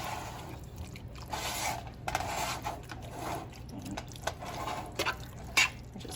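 Peppers and meatball mixture for orange cranberry meatballs are stirred in a pot, quiet wet squishing and soft spoon scrapes coming in uneven bursts.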